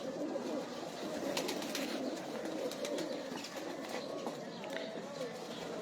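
Pigeons of an old breed coo softly in a rooftop loft, with low throaty murmurs blending under ongoing men's conversation and faint background chirps.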